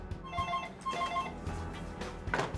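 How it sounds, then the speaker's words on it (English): A telephone rings with a repeated electronic trill in short bursts, fairly quiet and steady with no talking over it. "Alex makes a call to her phone posing as a representative from her bank."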